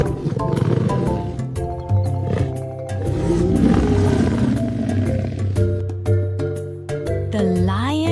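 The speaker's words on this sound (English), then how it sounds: "The lion is the king of the jungle. Its roar is very loud." A lion roars loudly and repeatedly in a series of deep, drawn-out calls, close and dominant throughout, ending with a rising tonal flourish.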